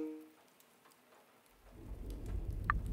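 Storm in a mystery video game, with steady rain building from near silence into a dense, rumbling downpour with low thunder, close and fairly loud, and no talking.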